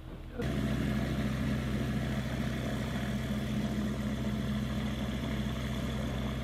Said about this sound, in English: I'm going to put the throttle back to idle